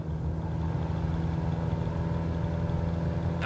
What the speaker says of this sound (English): Now apply full power with some right rudder for the engine torque.